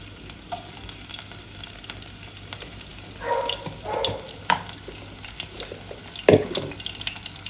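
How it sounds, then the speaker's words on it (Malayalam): Chopped shallots frying in hot coconut oil in a pan, a low continuous sizzle with occasional stirring swishes and one sharp clatter near the end, close and steady, no speech. "ഈ വെളിച്ചെണ്ണ ചൂടായി വരുമ്പോൾ"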